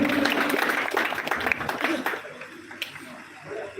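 Crowd claps at a night cricket tournament's closing prize ceremony, a burst of loud applause that thins out after a couple of seconds, with someone speaking over it.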